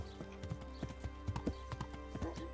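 Rhythmic clip-clop of a horse's hooves while riding in Kingdom Come: Deliverance, a steady trotting beat heard fairly quietly amid faint game ambience.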